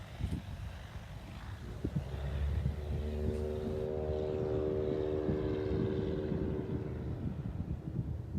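A banner-towing propeller airplane flying over an airport, its engine drone swelling as it approaches, holding loud and steady, then fading slightly, with a low rumble underneath.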